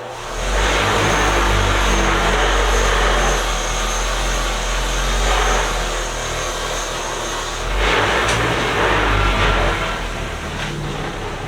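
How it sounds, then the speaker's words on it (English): A bench grinder fitted with a wire wheel spins up and runs steadily with a close, loud whirring hum, with brief rougher bursts as a vintage tool is pressed against the brush. "Let me start the grinder or wire wheel up real quick."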